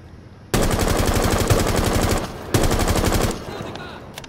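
Rapid automatic gunfire from a heavy-recoil weapon in the video game Rainbow Six Siege, loud and close, in two sustained bursts separated by a short pause, with a fainter tail at the end.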